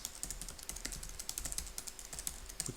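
Fingers type on a computer keyboard while writing a bash script, producing a rapid, close, irregular patter of crisp key clicks with brief pauses between bursts.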